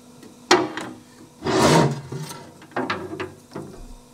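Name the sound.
cleaning corrosion protection off an RB25 crankshaft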